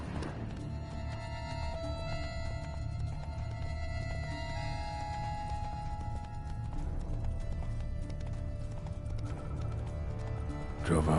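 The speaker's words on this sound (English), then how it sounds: "Horses must have gotten spooked." In The Witcher 3: Blood and Wine, hooves clatter rapidly as spooked horses gallop, with shrill neighs and whinnies rising over the rhythmic pounding and a steady background hum.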